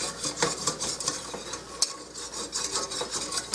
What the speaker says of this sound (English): I'm just going to mix this around here